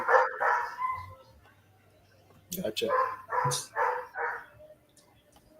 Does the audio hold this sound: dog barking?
yes